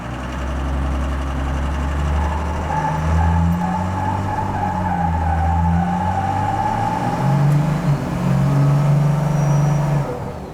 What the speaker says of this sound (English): I don't think I've ever seen a burnout in the garage done before